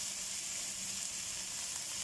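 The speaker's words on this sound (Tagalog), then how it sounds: "Igisa natin ang bahagya tapos tatakpan natin." String beans and shrimp sautéing in a pan give off a steady, soft sizzle and hiss that carries evenly through the moment with no other sounds.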